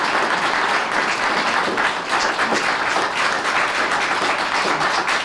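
Steady audience applause in a room after a candidate's closing statement at a 2016 candidate forum, a dense continuous wash of clapping from a modest crowd, moderately loud and sustained throughout.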